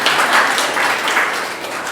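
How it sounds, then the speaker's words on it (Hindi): Loud, sustained applause from an audience welcoming guests at a book launch ceremony, a dense steady wash of many hands clapping without a break. "जोरदार तालियों के साथ स्वागत है।"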